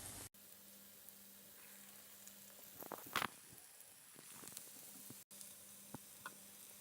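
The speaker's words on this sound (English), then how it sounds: "And let it fry golden brown" Urad dal fritters frying in oil over a medium flame, a quiet, continuous sizzle with occasional soft pops and ticks, close but faint.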